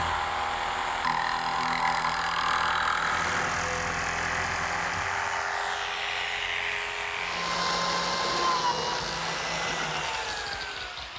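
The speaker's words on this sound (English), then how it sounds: "Now what I have to do is notch the plywood" A power tool whines steadily as it notches plywood for a tall pine clock's waist extension, with a loud continuous motor drone and shifting pitch as the blade bites into the wood, and no talk.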